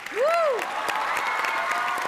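A village gathering claps loudly for an arriving official, a dense burst of applause from a crowd, with a rising whistle-like tone at the start and bits of voices mixed in.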